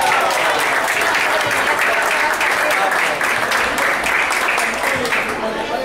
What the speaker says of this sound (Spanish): Un fuerte aplauso por Marco Aurelio